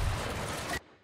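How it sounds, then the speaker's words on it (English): Rear cannons on a starfighter in Star Wars Battlefront 2 fire in a dense, rapid burst of blasts that cuts off abruptly after under a second, leaving near silence. "Those rear cannons come in handy."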